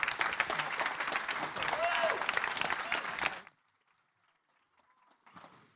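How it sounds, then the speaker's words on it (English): Conference audience applauding, a dense, steady wash of many hands clapping in a hall that stops abruptly after a few seconds, leaving near silence with faint movement. "So give them a big round of applause."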